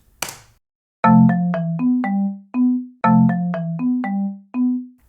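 Basic melody from an online grid music sequencer, short synthetic plucked tones in a bouncy repeating phrase played twice, clean and close, preceded by a brief click and with no talking.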